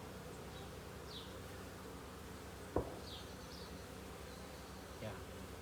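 Honey bees buzz around an opened hive during a first spring inspection, a continuous soft drone with individual bees whining past and a couple of faint knocks from handling the frames.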